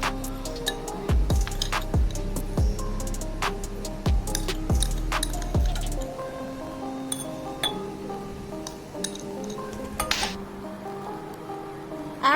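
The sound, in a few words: stirring chalk powder into water in a glass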